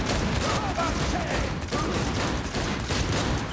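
Gunfire in Cyberpunk 2077 pours out as a continuous dense barrage, mid-loud and sustained throughout, with a voice briefly audible beneath the shots.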